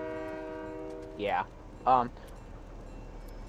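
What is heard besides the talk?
train in the video game Fortnite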